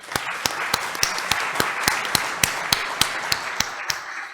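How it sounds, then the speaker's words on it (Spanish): An audience at a seminar on criminal procedure and corruption offences applauds a speaker, with sharp, evenly spaced claps in a steady rhythm ringing out in a room for several seconds. "para quien pido un fuerte aplauso"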